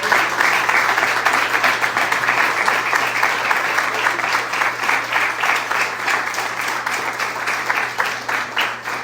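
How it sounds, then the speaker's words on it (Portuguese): Warm applause from a church congregation during a worship service on Psalm 2, a dense, steady wash of many hands clapping together for the full stretch, close and loud, with a faint low hum underneath. "uma salva de palmas bem calorosa nessa hora."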